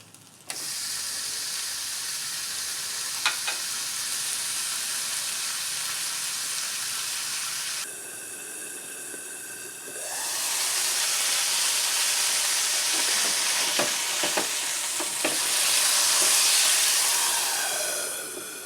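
Burger blackening in a pan over a homemade ethanol alcohol stove buried in gravel, a steady hissing sizzle that dips briefly then swells louder, with a few faint clicks and no talk.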